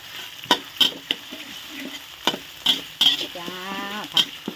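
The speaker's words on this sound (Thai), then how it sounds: "ให้ขึ้นมันก่อนผัดพริกให้เหลือง ให้เหลืองให้หอมก่อนจ้ะพริกแกง" Red curry paste stir-fried in oil for a catfish and Thai eggplant dish: scattered sharp spatula scrapes and taps over a low, steady sizzle, with a brief tonal call in the background.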